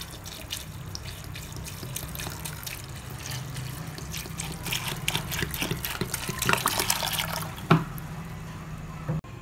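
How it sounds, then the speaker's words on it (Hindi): Water is poured over soaked masoor lentils for haleem, a continuous splashing, trickling flow that builds in intensity, with a few clinks of a vessel near the end and no voices. "अब हम इसमें पानी शामिल करेंगे।"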